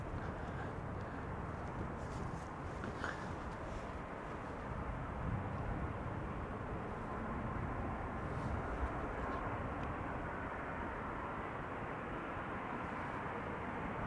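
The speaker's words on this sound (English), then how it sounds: "This is KLM flight 602 returning from LAX 787-10 Dreamliner. Touching down after 9 hours and 56 minutes of flight." A KLM Boeing 787-10 Dreamliner touches down at Schiphol Airport, heard from outside as a steady, broad jet roar that holds evenly throughout without any other sounds.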